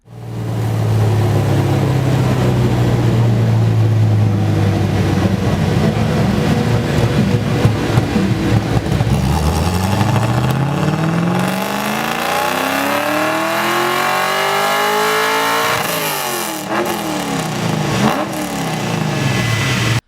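A loud V8 engine in a Ford Sierra XR8 roars nearby, its pitch rising and falling through repeated revs, a deep throaty rumble throughout.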